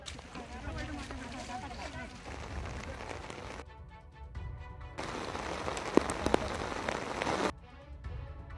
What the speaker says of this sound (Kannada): ಎಡೆಬಿಡದೆ ಮಳೆ ಸುರಿಯುತ್ತಿದ್ದು